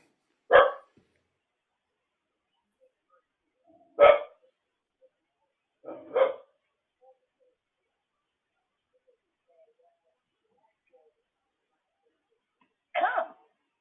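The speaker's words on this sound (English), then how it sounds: "you're going to hear it bark again" A dog barks four times, widely spaced with long quiet gaps, the third a quick double bark; fairly close and moderately loud.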